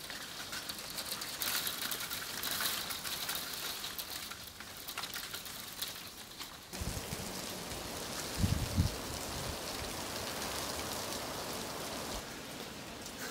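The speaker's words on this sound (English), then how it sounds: "This freezing rain coming down, starting to hang on the trees." Freezing rain falls steadily on trees outside a farmhouse in late winter, a dense, even hiss of drops with a brief dull knocking partway through and no voices.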